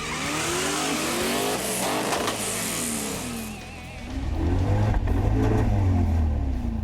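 COPO Camaro on a drag racing run, its engine revving hard through rising sweeps with brief breaks at the shifts, then settling into a louder, deep roar, close and loud with no talking.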